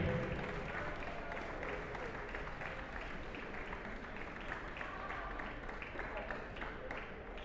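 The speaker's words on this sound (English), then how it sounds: "So the louder you cheer, the more you clap," Spectators at a collegiate table tennis team finals keep up sustained, dense applause, a steady, moderately loud wash of clapping from the crowd.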